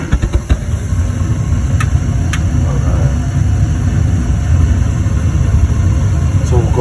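A Trane gas furnace starting up, its inducer motor running as a steady low rumbling hum with a few sharp clicks early on, close and fairly loud, with someone talking over it.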